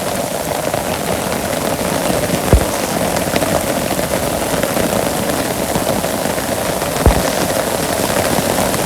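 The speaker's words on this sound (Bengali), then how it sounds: "টিপ টিপ করে বৃষ্টি করে বালছে" Rain falls steadily on surfaces in a Bangladeshi village, a close, even patter with a couple of sharper drip or tap accents, no talking.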